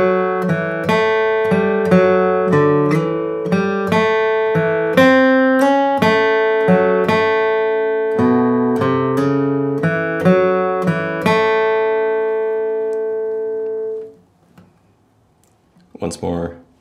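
A bluegrass flatpicking break on acoustic guitar plays measures of Nine Pound Hammer as a quick, crisp run of picked single notes. The final note rings and fades to near silence, followed by a brief sound.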